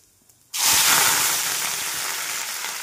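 Mustard seeds, cumin, onion and curry leaves hit hot oil with a sudden loud sizzle after a brief quiet moment, then keep frying in a steady, bright hiss close by.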